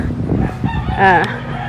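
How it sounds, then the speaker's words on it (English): A rooster crows loudly nearby in one short burst, with free-range chickens clucking and soft barnyard noise around it on a small farm. "Here's some of our free-range chickens."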